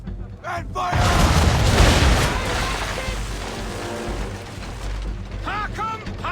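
A broadside of ship cannons fires in the Assassin's Creed 3 video game, a loud booming burst with mechanical rattling that rolls on for several seconds, followed by a lingering rumble with a voice calling out near the end.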